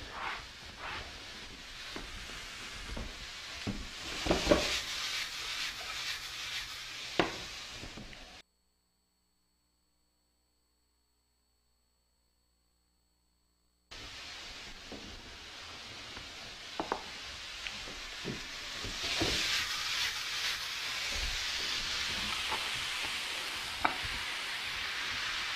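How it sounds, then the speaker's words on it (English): Vegetables with garlic and ginger sautéing in a pan for a pineapple-sweet chile glazed pork dish, a steady close sizzle with scattered stirring clicks and scrapes, broken by a stretch of silence midway. "We just want to sauté this to kind of tender up those vegetables a little bit."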